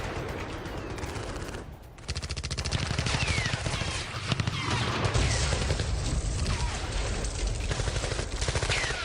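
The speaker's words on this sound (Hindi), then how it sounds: "ज़ैपोरिज्जिया में किस तरीके से फायरिंग चल रही है" Wartime gunfire in Zaporizhzhia, Ukraine crackles in dense, rapid bursts of automatic fire, sustained and fairly loud, with a brief lull before the firing resumes.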